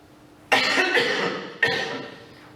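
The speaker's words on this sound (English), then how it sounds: "He coughs a bit." A man coughs twice, a long harsh fit followed by a shorter burst, close and loud with no talk over it.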